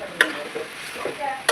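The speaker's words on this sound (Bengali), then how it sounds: "সুন্দর করে মশলাটা মিশিয়ে নেবো এখন পাস্তার সাথে।" Spice masala being stirred into pasta in a hot pan, a soft sizzle beneath a few sharp spoon-on-pan knocks, close and moderate in level, with no speech.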